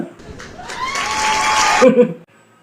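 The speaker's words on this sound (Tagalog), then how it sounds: "Pag nasagot ang tanong, dapat may palakpak. Palakpakan muna." A short burst of clapping from a small group rises and fades within a couple of seconds, with voices mixed in.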